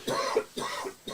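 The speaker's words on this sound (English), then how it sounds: "Do you want to have a big cough and I'll turn your mics off?" Three short, harsh coughs from one person in quick succession, close and clear, each burst separated by a brief pause.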